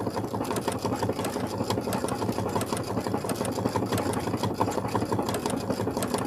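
A sewing machine stitches steadily and continuously, a close, even mechanical whirr with a rapid regular needle rhythm, with no talking over it.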